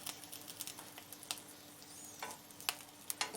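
Quiet, steady sizzling with scattered crackles and pops of peppers frying in a pan, close by, with no talking.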